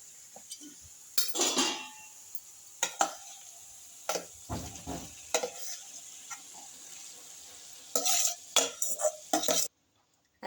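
Mashed eggplant tipped into fried spices in a pan for Khandeshi bharit brings a quiet background sizzle punctuated by repeated spoon scrapes, clanks and bursts of stirring, all close, ending in a short silence.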